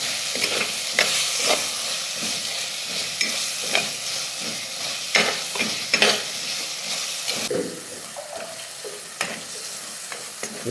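Ripe chopped tomatoes frying in a masala in a pan, steady sizzling with repeated scraping stirs at irregular intervals, close and clear with no voices.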